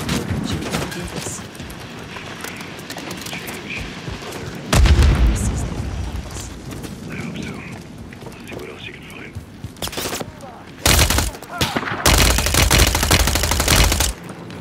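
Gunfire in the Call of Duty Modern Warfare 3 campaign, with loud bursts and heavy booming blasts that come and go over a steady rumble of battle, and a voice is heard briefly.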